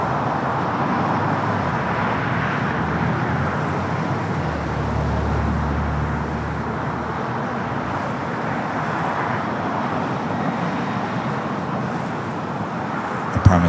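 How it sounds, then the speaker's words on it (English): A Boeing Dreamliner jet takes off from the north side of LAX, a steady, broad engine roar that holds at a constant level throughout with a deeper rumble swelling in the middle, heard from a distance among airport traffic noise. "Aeromexico Dreamliner taking off there on the north side, heading back to Mexico City."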